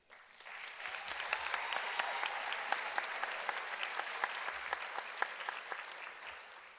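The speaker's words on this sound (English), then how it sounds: "today we are graduates, and that in itself is worthy of applause." Crowd applause fills a high school graduation ceremony for the class of 2025, a dense, steady wash of many hands clapping that swells quickly and holds for several seconds, heard at a moderate distance.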